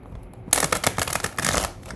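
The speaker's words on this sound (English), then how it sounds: "One more shuffle." Tarot cards are shuffled close up after a brief silence, giving a quick run of crisp riffling flutters with a short pause in the middle. No voices are heard.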